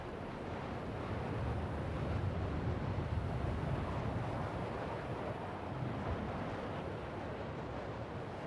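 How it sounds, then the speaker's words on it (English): Wind rushes past an Aegis Sabre fighter in atmospheric flight in Star Citizen, a steady broad whooshing roar with soft swells, moderately quiet and continuous. "if you listen closely, you can actually hear wind swooping past at times"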